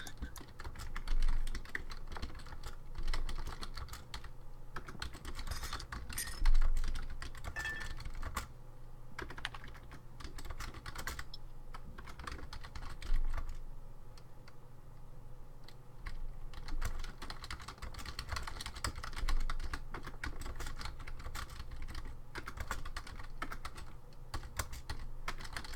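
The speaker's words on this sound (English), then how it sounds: "I hear typing." Typing on a computer keyboard carries on for the whole stretch as a continuous patter of quick, light key clicks with short pauses, picked up quietly over a faint background hum, with no talking.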